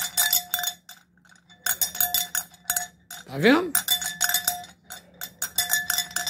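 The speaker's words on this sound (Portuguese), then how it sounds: "Tinha sino que o som era oco, era um som abafado" A hollow, muffled-sounding bell clanks in irregular bursts with a dull, clinking metallic tone, close by, and a voice speaks briefly in the middle.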